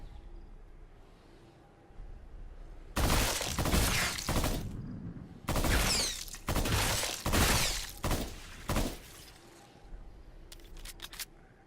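Bursts of loud, crackling gunfire from the horror shooter game Brookhaven Experiment, several clustered volleys and rapid shots separated by quiet gaps, with a few sharp single shots at the end.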